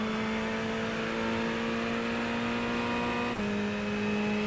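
Ferrari 488 GT3 Evo engine in iRacing, a steady loud whine rising gradually in pitch under acceleration, with a sharp drop at a gear change before climbing again.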